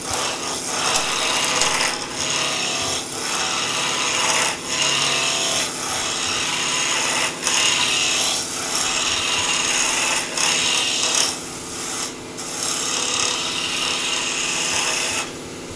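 A skew chisel cuts a spinning wood blank on a lathe, shaping it round for a fish shoal wall hanging: a continuous, loud, close scraping and rasping hiss with slight surges as the tool pushes forward and pulls back.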